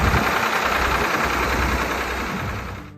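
Vintage Ford 3000 tractor engine running steadily at close range, a continuous mid-pitched rumble with a knocking texture, easing slightly toward the end.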